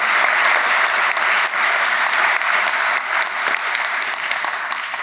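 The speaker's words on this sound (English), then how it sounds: "Give yourselves a round of applause." Sustained applause from a conference audience at the opening of a human rights event, dense and steady clapping filling the room for several seconds without a break, tapering only slightly toward the end.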